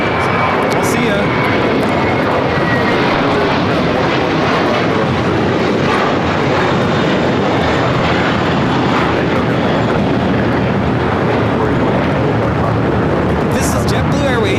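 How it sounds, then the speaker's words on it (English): A JetBlue Airbus A321 jet takes off at LAX, a loud, steady, broadband engine roar filling the whole stretch without a break. "This is JetBlue Airways Flight 1700, taking off to Fort Lauderdale on the A321."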